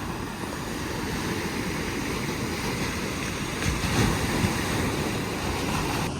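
Sea waves and a breeze on a Philippine provincial beach, a continuous wash of surf and wind rumble at steady moderate level, with no talking.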